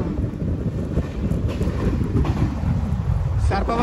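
A train runs non-stop through a station between Kakinada Town and Samalkot, a loud continuous rumble with wind buffeting close to the microphone and brief clatter near the end.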